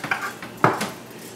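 Shallots and garlic being mixed in a bowl with a utensil: a few light clinks and scrapes against the dish, close and fairly quiet.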